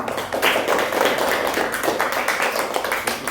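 A classroom of students claps for a group that has just presented. The clapping is dense and sustained, with sharp hand slaps running for a few seconds.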